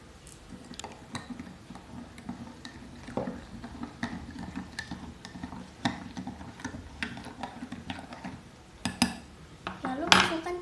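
A metal spoon stirs salt into water in a drinking glass, producing a steady run of light, close clinks and taps against the glass, with a brisker flurry near the end.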